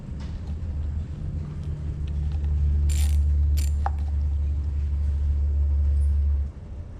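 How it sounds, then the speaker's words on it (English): A torque wrench tightens a fitting on a Minn Kota trolling motor, giving loud close mechanical ratcheting clicks over a steady low mechanical hum that stops abruptly near the end. "Got my torque wrench here."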